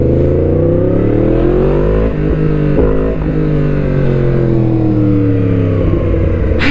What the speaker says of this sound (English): It moves, and the exhaust, it sounds extremely loud.